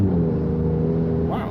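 An Alfa Romeo Giulia Quadrifoglio's engine revs hard from inside the cabin, a loud climbing drone that drops sharply near the end as the dual-clutch gearbox snaps into the next gear.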